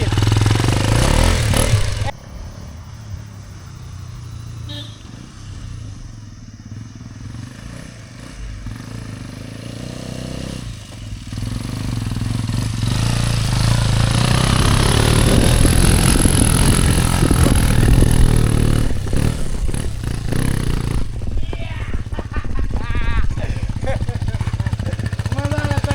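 A Hero Xpulse 210 motorcycle engine idles and then revs harder while the bike is dragged free from off-road mud, rough rumbling and clatter rising in the second half, with people shouting nearby.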